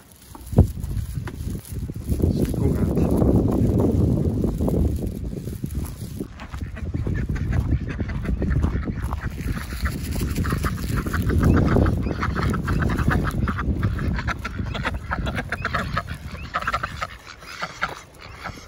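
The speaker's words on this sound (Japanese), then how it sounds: "アヒルの餌やりを やろうかなと思います" Ducks quack and honk in a noisy, continuous chorus while being fed outdoors at Yubara Onsen in Okayama, Japan, with feed sold outside a meat shop.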